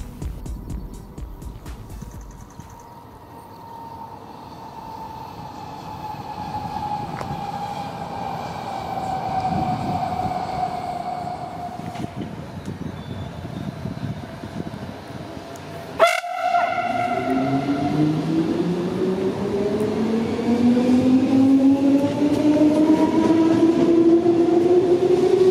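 A German S-Bahn commuter train rumbles steadily, then roars past with a sudden loud burst of rushing wheel and motor noise, followed by rising electric motor whine as the train accelerates away. No one talks.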